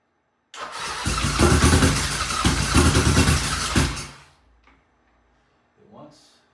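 An engine is cranked in a failed start attempt. Loud, rhythmic cranking churns for about three and a half seconds, then stops abruptly. A short, faint sound follows after a pause.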